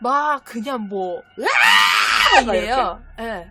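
A person talking in Korean breaks off to vocally imitate a woman's drawn-out, loud scream, the mimicked shriek sitting between short stretches of ordinary speech.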